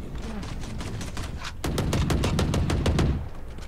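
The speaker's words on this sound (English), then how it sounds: "Did I just hear gunshots above me?" Rapid gunfire from the video game Valorant, first as a softer stream of shots and then a louder, tightly spaced burst of about a dozen rounds, with a voice talking faintly underneath.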